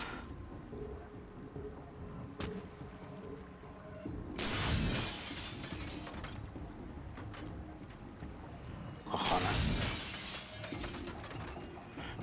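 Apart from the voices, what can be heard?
glass windows shattering in a video game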